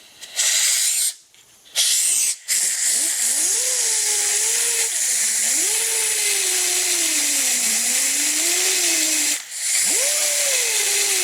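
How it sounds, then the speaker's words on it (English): Die grinder cutting a V notch into a freeze-cracked 400 engine block, a high whining pneumatic tool with hissing air, its pitch rising and dipping as it loads against the cast iron, briefly stopping twice near the start. "So I'm going to grind a little V out right there so I can drill there."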